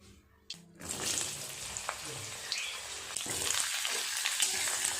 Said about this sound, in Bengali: উল্টে পাল্টে ভালো করে লাল লাল করে ভেজে নেব পটল